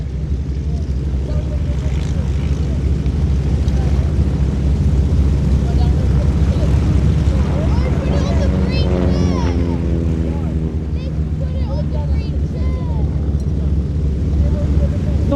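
An SF-260 light trainer and tourer aircraft flies at Little Gransden Airshow, its propeller engine droning steadily with a rising and falling pitch as it passes, under a commentator's talk.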